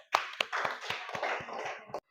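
Children in a classroom clap their hands in a quick, short burst of overlapping claps close by. It stops abruptly after about two seconds.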